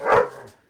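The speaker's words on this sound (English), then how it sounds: "sorry about the dogs. There's no one home upstairs. So With dog people. they're just playing." A dog playing indoors lets out one short, sharp bark that decays quickly, close and fairly loud, with no talking.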